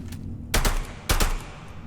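Two loud bursts of rapid gunfire from the video game Starfield, each lasting about a quarter second, separated by a short quieter gap with low background noise.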